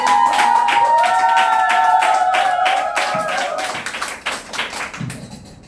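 An audience claps loudly and steadily for several seconds to welcome a businesswoman, a lawyer, at a Nu Skin business group rally, with sustained tones and voices underneath before the applause tapers off.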